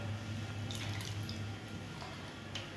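Chopped banana flower is rinsed and squeezed in a bowl of salted turmeric water, giving soft close dripping and splashing with faint trickles over steady low background noise, without any voices.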